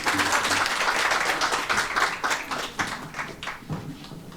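An audience claps to welcome a woman advocate onto the stage at a women's community event, giving a dense burst of applause that gradually thins and fades over a few seconds.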